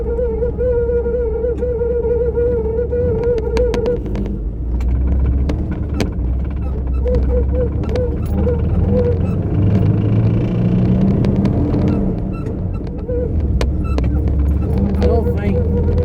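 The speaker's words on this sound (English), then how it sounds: "Old blower motor ain't too happy." An old blower motor running in a 1985 Chevrolet K10 truck, a loud continuous droning hum with a wavering whine, steady throughout, with some talk over it.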